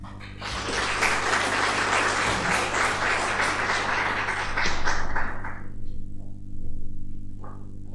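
Audience applause follows a minister's speech at an annual report presentation, a steady, full round of clapping for about five seconds that fades into a few scattered claps over a low hum.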